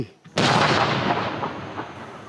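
A gun or cannon is fired after a countdown, a single sudden, loud boom that rolls into a long, fading rumble over a couple of seconds.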